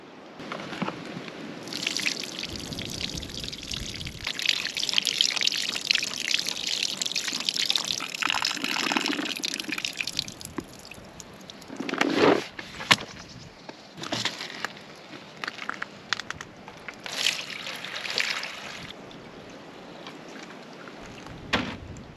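Water being poured and tipped out of a container of curing olives, sloshing and gushing in uneven bursts with drips and light knocks of the vessel, close by and without speech.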